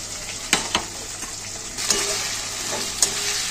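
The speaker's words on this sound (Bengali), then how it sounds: "একটু নেড়ে ঝেড়ে নিলাম পেঁয়াজ, আদা রসুন, পেঁয়াজ সব কিছু" Onion with ginger-garlic paste stirred and frying in a pan for mutton kosha, a steady close sizzle broken by a few sharp scraping clicks of the stirring spoon.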